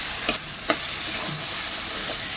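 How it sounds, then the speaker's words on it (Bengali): Prawns fried and stirred with spice paste in a pan, a steady sizzle with two sharp spoon scrapes near the start, close and unbroken, no talk. "আমার মশলা কষা হয়ে গেছে, চিংড়ি মাছগুলো দিয়ে আমি আবার ভালো করে কষিয়ে"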